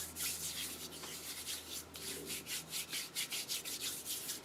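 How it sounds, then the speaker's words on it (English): Hands rubbing coconut oil into the skin, a soft repeated friction sound with a steady, close rhythm. It runs alone and quiet for a few seconds. "So I'm just going to rub that in."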